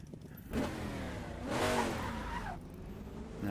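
A McLaren Can-Am race car engine in the Assetto Corsa racing sim at Bridgehampton, heard alone as a loud sustained roar that swells and falls with revving, along with some tire noise.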